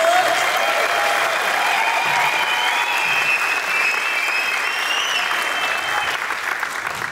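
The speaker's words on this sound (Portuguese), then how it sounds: "eu quero que vocês recebam uma salva de palmas" A comedy club audience applauds a comedian in a dense, steady wash of clapping that holds loud and unbroken throughout, with faint cheering mixed in.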